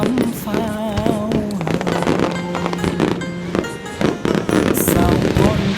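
Japanese fireworks burst in a rapid series of sharp cracks and pops, partly masked by a loud song with singing that runs throughout.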